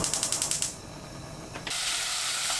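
A stove burner under a pot holding oil, sesame oil and beef is switched on: a rapid series of ratcheting igniter clicks, then a short pause before the gas catches with a steady soft hiss.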